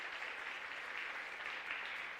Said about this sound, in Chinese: 拍手，拍手，拍手，感谢主。